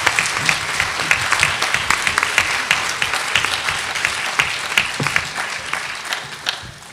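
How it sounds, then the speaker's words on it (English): An audience applauding a panel at a health issue forum, a dense, sustained wash of many hands clapping at full strength for several seconds, fading slightly toward the end. "Let's give our panel another round of applause"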